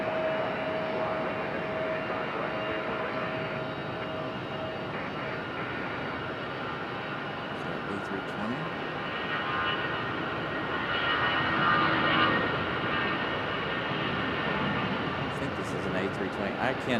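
An Airbus A320 or A319 airliner passes at Raleigh-Durham airport, a sustained broad jet roar that swells slightly toward the end, with a person talking over it.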